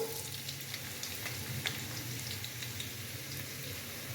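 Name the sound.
chopped onions frying in hot oil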